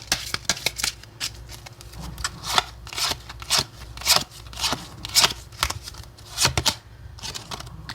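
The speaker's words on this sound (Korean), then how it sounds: "오늘은 레노먼드 카드를 먼저 뽑아볼게요." Lenormand cards being shuffled and drawn for a tarot reading, with repeated crisp flicks and riffles in uneven rhythm, close and clear with no voices.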